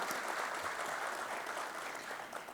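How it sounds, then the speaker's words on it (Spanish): At a conference hall, an audience gives a steady round of applause, fairly distant and soft, a continuous wash of clapping lasting a couple of seconds. "Que sea para ustedes también otro aplauso de agradecimiento"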